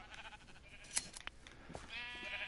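Sheep bleat in the video game Minecraft on a sheep farm, several short wavering cries overlapping close by over a quiet background.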